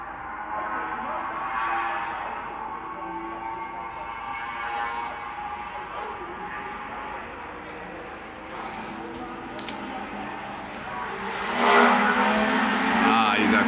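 Classic touring race cars circle the Nürburgring during the 24-hour classic event, a steady distant engine drone with a louder pass swelling near the end, under crowd ambience.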